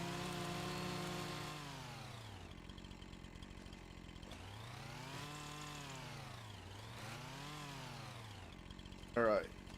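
A chainsaw cuts logs in Farming Simulator 25, its engine droning and swelling in repeated rev-up and rev-down arcs, moderately loud and steady, ending with a brief sharper burst.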